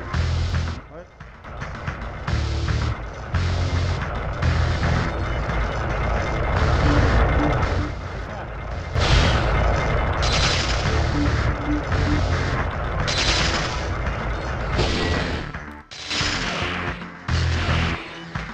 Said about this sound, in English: Okay, quit shooting the lasers.